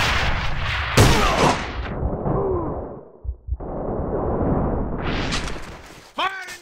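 Gunfire and a grenade blast ring out in a video game firefight, with a heavy explosion followed by sharp bursts of shots while voices shout over the action.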